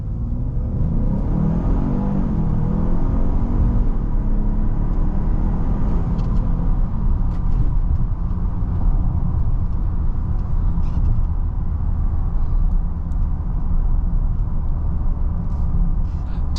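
A 2023 Lincoln Nautilus Black Label pulls away and drives, a continuous low road rumble and engine hum heard from inside the cabin, steady and close throughout.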